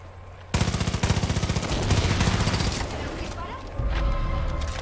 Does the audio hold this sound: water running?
no